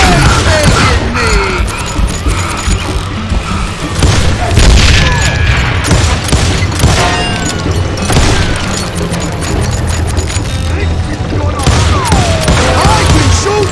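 Loud dynamite blasts and rattling gunfire in the western shooter game Call of Juarez Gunslinger, with booms, debris and scattered shots layered densely throughout, and voices shouting at times.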